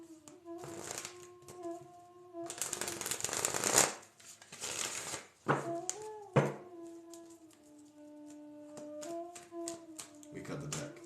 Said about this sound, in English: We cut the deck.